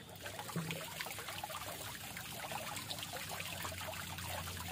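A water pump runs while water trickles steadily into a tarpaulin fish pond, a soft continuous pouring wash at close range with no voices.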